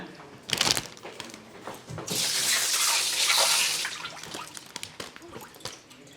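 Tap water runs during washing in a home: a close, loud steady gush for about two seconds, with clatter and brief splashes before and after.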